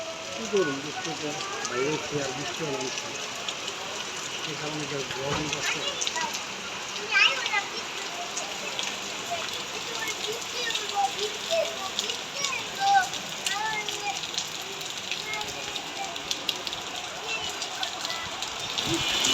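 Heavy rain hisses steadily all around in Old Dhaka, with scattered drips and splashes, while people speak intermittently over the downpour.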